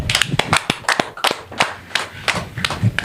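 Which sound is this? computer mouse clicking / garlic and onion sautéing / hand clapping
hand clapping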